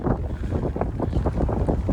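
Strong wind buffets the microphone outdoors beside an abandoned mall's former auto center, a loud continuous roaring rumble with rapid gusty pulses.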